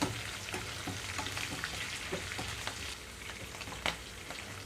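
Slit green chillies and curry leaf sprigs fry in hot tempering oil for tamarind pulihora, giving a steady, close, crackling sizzle with small pops throughout and no talking.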